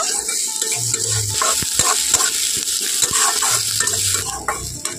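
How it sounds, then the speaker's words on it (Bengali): Green chilies and onions fry in hot oil in a pan for a chichinga curry, a steady close sizzle running throughout with a few spoon scrapes and clinks along the way, no voices. "তেলের মধ্যে কাঁচা লঙ্কা, পেঁয়াজ সবগুলো উপকরণ খুব ভালোভাবে ভেজে নেব"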